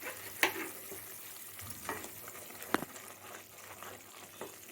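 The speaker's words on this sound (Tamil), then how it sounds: "பாருங்க நல்லா கொதிச்சிட்ருக்குது." Onion and gram flour curry simmering in a pot, a soft steady bubbling and faint sizzle with occasional stirring clinks, quiet and close, no talking.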